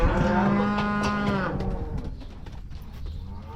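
A calf lets out a loud, drawn-out moo close by that lasts over a second, then trails off into quieter farmyard background noise.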